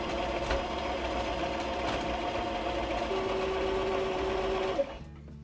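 A sewing machine stitches a shirred dress seam, running steadily with a continuous mechanical whir and rapid needle rhythm that stops abruptly near the end.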